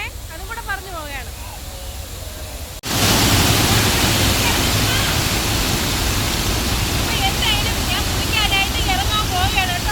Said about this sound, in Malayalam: നമ്മുടെ കന്യാകുമാരി ജില്ലയിലെ തൃപ്പരപ്പ് അരുവി കാണാനാണ് ഞാൻ എത്തിയിട്ടുള്ളത്.